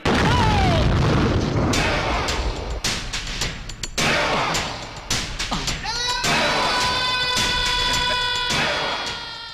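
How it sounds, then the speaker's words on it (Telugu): Loud booming bomb blasts in a Telugu action film scene, a burst of several heavy explosions with crackling debris that fade into a ringing, sustained tail, with dialogue around them. "రే యాదగిరి, నువ్వు నీ పోరంబోకులు నిలబడ్డ ప్రతి గజానికో బాంబు ఫిక్స్ చేశా. ఇది శాంపిల్ మాత్రమే."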